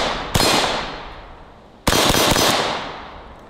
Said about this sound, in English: First time I've ever shot corrosive ammo through it. You can see the sparks as it hits the steel target.